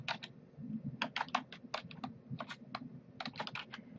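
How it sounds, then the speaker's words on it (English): Keys clack on a computer keyboard as a search topic is typed, coming in quick irregular bursts of close, crisp taps with short pauses between them, over a low steady hum. "simply type your search topic"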